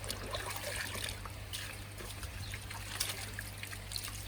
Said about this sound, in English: and then I'll do the other side of the bucket just to get them nice and clean